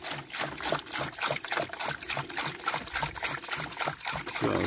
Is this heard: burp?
no